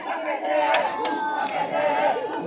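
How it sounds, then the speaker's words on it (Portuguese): Racing supporters cheer and chant steadily at an under-11 youth football penalty shootout against Grêmio Independente, a dense crowd roar with a few sharp whistles or shouts rising above it, fairly loud throughout. "A torcida do Racing anima seu time."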